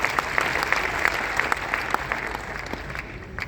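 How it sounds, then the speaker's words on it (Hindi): Steady audience applause at a gathering, a dense wash of many hands clapping with a few sharper individual claps, continuous throughout and tapering slightly at the end. "तालियां बजा सकते हैं।"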